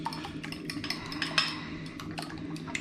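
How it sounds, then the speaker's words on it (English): Eggs whisked with a fork in a bowl, a quick run of faint clinks and scraping taps against the dish. "Now, we have to whisk the eggs."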